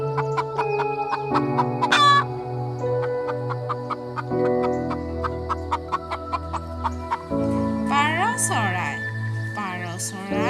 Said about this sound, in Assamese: মুৰ্গীক ইংৰাজীত কয় hen